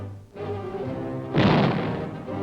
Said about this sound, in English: Guns, large or small, targets afloat or in the air, the Navy is trained to shoot and hit.